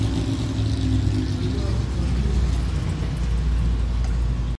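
A classic Porsche 356 SC passes during a historic road rally, its engine a loud mid-pitched drone that holds steady then fades as it moves away, ending abruptly.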